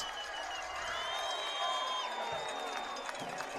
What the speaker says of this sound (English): And now the Liberty crowd erupts